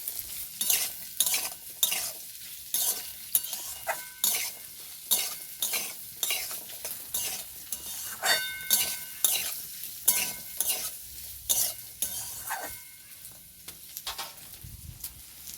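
Chopped carrots frying in a pan with a steady sizzle under rhythmic, repeated scraping and clinking strokes of a spatula or spoon, close and clear, with no talking.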